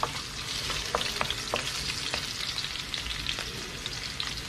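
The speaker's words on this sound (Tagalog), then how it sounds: "Tapos gisa tayo, bawang, gisa lang." Garlic sautéing in oil in a pan sizzles steadily and fairly loudly, broken by sharp scraping clicks as it is stirred, with no talking.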